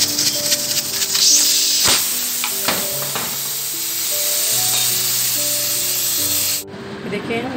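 Steam hisses steadily from a pressure cooker as its weight is lifted off after cooking chana, moong and masoor dal, a loud continuous rush that cuts off abruptly near the end, with a voice speaking over it.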